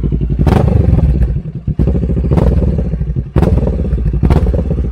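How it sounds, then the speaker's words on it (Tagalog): Kawasaki Z650 motorcycle engine running loud and close, with repeated revving surges and sharp popping, crackling backfire bursts over a steady low rumble. "Lakas ng ano, backfire niya."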